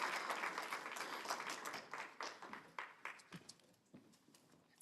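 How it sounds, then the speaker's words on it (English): Church congregation applauding to welcome guest speaker Reverend Steven Winn, a fairly quiet, steady patter of clapping that thins into scattered individual claps and fades out near the end. "Please give a round of applause to Reverend Steven Winn."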